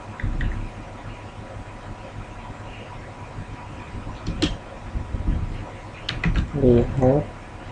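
A Pascal program is typed on a computer keyboard in irregular bursts of close, light key clicks, with a voice talking briefly near the end.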